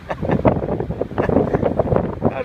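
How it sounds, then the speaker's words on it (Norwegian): Strong gusts of wind buffet the microphone out in the mountains, a loud, rough rumble that swells and surges through the whole moment with no speech. "Nå kommer det noe skikkelig vindkast igjen her."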